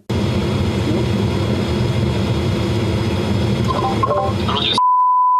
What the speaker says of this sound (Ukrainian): на побачення з расистом вилітає наш FPV-дрон